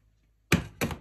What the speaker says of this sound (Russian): Ставлю вариться на плиту.